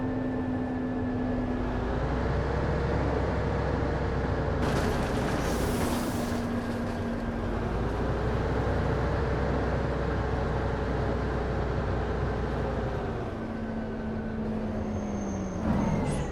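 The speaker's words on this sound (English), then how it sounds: "Listen to that engine sound, guys." Simulated bus engine from the OMSI 2 driving game, a steady droning hum with rising and falling revs over about sixteen seconds, punctuated by brief bursts of hissing air brakes and mechanical clatter.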